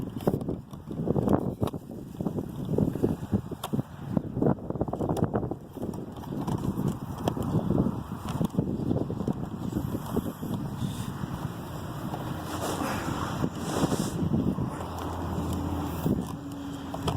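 Gusty outdoor wind buffets the microphone with low rumbling bursts and uneven roaring, loud and close, broken by occasional knocks and handling noises, with no clear talking.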